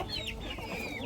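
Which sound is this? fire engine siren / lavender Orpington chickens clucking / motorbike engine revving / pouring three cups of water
lavender Orpington chickens clucking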